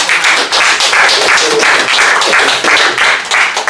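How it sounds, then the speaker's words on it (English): An audience applauds loudly and steadily for several seconds, a dense, continuous patter of many hands clapping. "Please, a round of applause."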